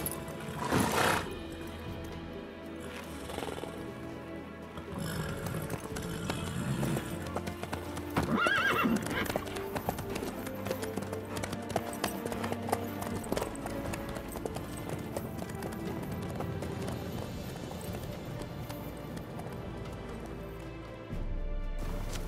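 Horse hooves clip-clop steadily throughout a ride in The Witcher 3, with a whinny standing out near the start, over a dense game backdrop.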